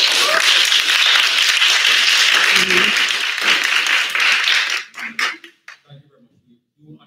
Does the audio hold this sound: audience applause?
yes